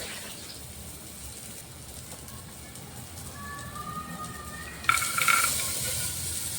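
Soaked peas frying with spinach in a pan, giving a low continuous sizzle that swells suddenly near the end into a louder, brighter hiss with a short whistling tone just before, and no voices.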